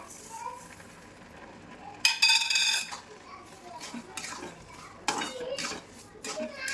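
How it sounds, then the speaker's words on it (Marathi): Sugar poured into carrot halwa cooking in a pan, giving two short rattling, clattering bursts of pouring and stirring against the pan, fairly close, with quiet kitchen sounds between them. "आता आपण यामध्ये साखर घालून घेऊयात"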